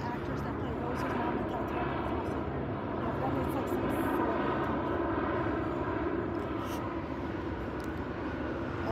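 A hospital helicopter flying overhead, a steady low engine drone under ongoing conversation between nearby voices.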